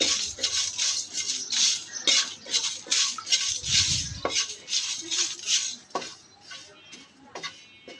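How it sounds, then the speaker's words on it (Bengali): Whole dried chillies, cumin, coriander, fennel and five-spice seeds dry roasted in a pan over low heat, with a rapid, steady scraping and rattling as the spices are stirred, close and moderately quiet. "এবার প্যানের মধ্যে সবগুলোকে একসাথে দিয়ে একটু টেলে নেব।"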